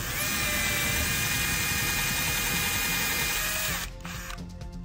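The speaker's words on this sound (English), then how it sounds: "I need to drill" A loud, steady high-pitched power drill whines continuously for several seconds while drilling 3.5 mm holes for a hatch on a Hallberg-Rassy 312 sailboat, then stops abruptly, leaving a few faint clicks and rattles.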